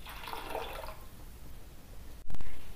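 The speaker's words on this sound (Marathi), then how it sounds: "तर आणखीन थोडंसं पाणी घालून घेऊया याच्यामध्ये." Water pours into a pan of egg curry with a soft splashing trickle at first, then quiet, ending in a short louder gush.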